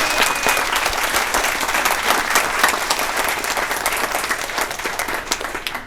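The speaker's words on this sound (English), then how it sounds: "can we have an extra round of applause for all our panelists today?" An audience at a school panel discussion in Kuala Lumpur gives a sustained round of clapping, dense and steady, easing off slightly toward the end.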